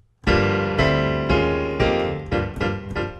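Piano plays the intro of a song: a handful of loud, separate chord strikes spaced about half a second apart, each ringing and decaying before the next, close and alone.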